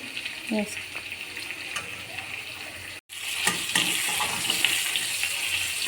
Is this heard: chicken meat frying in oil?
yes